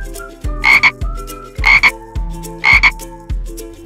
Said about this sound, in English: A frog says ribbit,